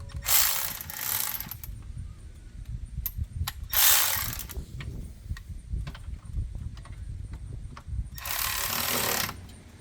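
A ratchet wrench with a 14mm socket clicks in repeated bursts while tightening brake caliper bolts during a wheel bearing replacement, with fast pawl ratcheting up close and short pauses between strokes.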